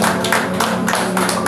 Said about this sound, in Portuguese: a igreja deu uma linda salva de palmas para Jesus.